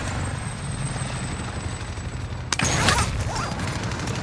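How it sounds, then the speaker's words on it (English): A helicopter arrives in Call of Duty: Modern Warfare as a steady rotor drone that rises sharply into a loud, close whoosh partway through, with a sudden burst of noise at the moment it sweeps in. "Helo is inbound."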